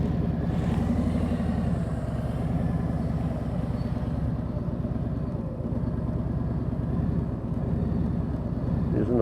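A motorcycle carrying a passenger rides tight circles to the left, its engine giving a steady, continuous low drone that stays close and fairly even throughout, with only slight dips in level.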